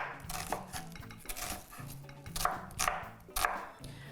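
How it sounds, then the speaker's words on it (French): Onion being chopped with a knife on a board, a run of sharp, uneven blade strikes close by with dish clatter mixed in, no voices. "Hacher encore"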